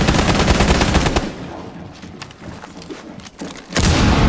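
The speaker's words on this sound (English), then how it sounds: "They're shooting through the hatch." Loud bursts of gunfire in Rainbow Six Siege, shots fired through a hatch, heavy rapid firing that thins to scattered shots before resuming at full intensity.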